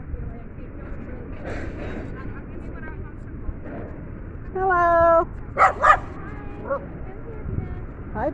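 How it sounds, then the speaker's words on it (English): Excited dogs bark in a few short bursts, closest around the middle and then a pair of sharp barks, over steady background noise with people talking nearby. "Hi, doggies. Sorry, they're very upset."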